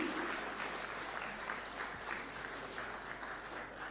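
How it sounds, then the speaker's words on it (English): Steady applause from a crowd at a Taxpayers' Day event at State House, Kenya, many hands clapping together in a dense, even patter, heard from a distance at moderate volume. "A round of applause kindly."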